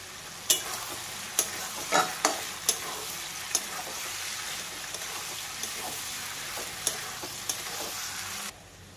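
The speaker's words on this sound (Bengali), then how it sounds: "এবার দিয়ে দেব পরিষ্কার করে রাখা চিংড়ি মাছ।" Cleaned prawns hit hot oil with chopped tomato, giving a soft, steady sizzle broken by several sharp clacks of a spatula stirring in the pan, fairly quiet and with no talking.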